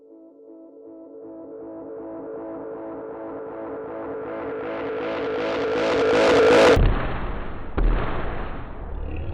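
Guitar through a delay pedal with fuzz and reverb swells into rising, dense feedback that builds to a loud peak, then cuts to a washy reverb tail with a single thump, alone and close.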